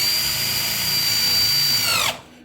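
Power driver sinking a Torx screw into a slot car track build, a steady high-pitched motor whine lasting about two seconds that winds down sharply as it stops.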